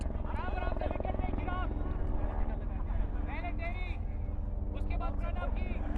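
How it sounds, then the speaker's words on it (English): A helicopter flies overhead near a cricket match, its steady rotor drone running loud and continuous throughout while people talk over it. "If you can see the helicopter, that's the noise that you're hearing"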